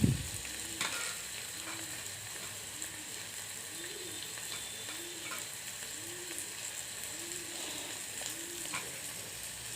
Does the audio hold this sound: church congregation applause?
no